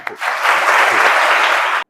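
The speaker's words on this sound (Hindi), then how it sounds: "तो एक बार डॉक्टर दिवाकर के लिए ताली।" A burst of applause from a crowd at a school marathon event, steady and fairly loud for nearly two seconds, then cutting off abruptly.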